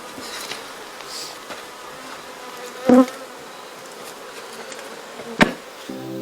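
A steady hum of a honey bee colony buzzing fills the background during a bee removal, with two sharp knocks breaking through partway along.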